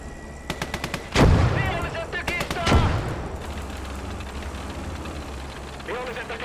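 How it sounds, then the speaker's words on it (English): Mortar and gunfire in a war video game: a rapid string of sharp shots leads into two heavy booming blasts, followed by a sustained rumble of distant battle noise. "That mortar fire is being a bit deadly."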